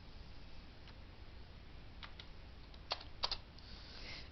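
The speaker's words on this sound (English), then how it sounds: "if I press some of the alpha keys, I get numbers" Quiet, sparse key presses on a computer keyboard set to a NIX layout, a few isolated clicks followed by a short cluster of taps, with no talking.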